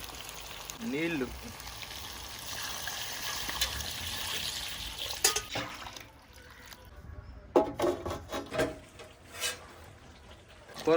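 Water is poured into a pot of chicken leg curry cooked in a village kitchen. The splashing and trickling is moderately loud and uneven, with scattered clatter and a faint background voice.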